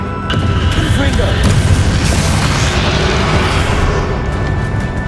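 Confringo fire spell detonating in Hogwarts Legacy combat, a loud sustained booming blast over dense battle noise, with a voice casting the spell nearby.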